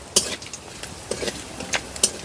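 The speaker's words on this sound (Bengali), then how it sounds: "এগুলোকে আমি একটু ভালো করে ভেজে নিচ্ছি।" Whole bay leaves, cinnamon sticks, crushed cardamom, cloves and cumin fry briefly in oil while a spoon stirs them, giving a few sharp metallic scrapes and clinks over a faint sizzle.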